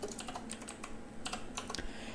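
Typing on a computer keyboard while entering a name into a PC program for controlling Arduino home appliances: a short burst of quick, close key clicks over a low room hum.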